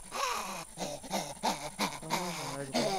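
A dog in the zombie survival video game WarZ, giving off whimpering, growling whines in a continuous run of harmonic cries over about three seconds, close and fairly loud against busy game noise.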